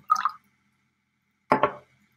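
Water is added to a graduated cylinder in two short, faint pours about a second apart, each a small splash and gurgle against otherwise silent surroundings.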